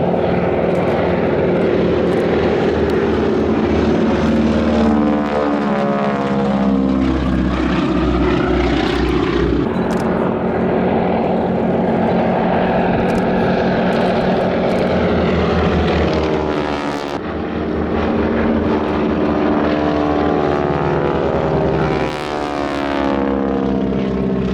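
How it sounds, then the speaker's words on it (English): A Super Stearman biplane at an air show, its propeller tips going supersonic, producing a loud continuous rasping engine drone that rises and falls in pitch as it passes, with no voices. "this sound is created by the effect of the propeller tips going supersonic"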